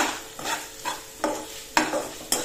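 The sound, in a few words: stirring coriander into sautéed capsicum in a pan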